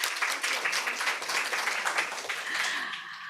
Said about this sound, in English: round of applause for Professor Forbes.